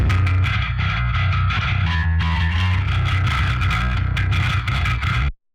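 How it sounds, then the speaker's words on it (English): A bass guitar through an 808 distortion plugin plays continuously, heavily distorted and buzzing with dense, gritty overtones, loud and up front, then cuts off abruptly near the end. "So let's try the 808 distortion."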